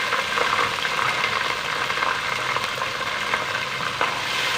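Garlic ginger paste sizzles in hot oil with golden fried onions in a pan, a loud continuous frying hiss with occasional stirring scrapes.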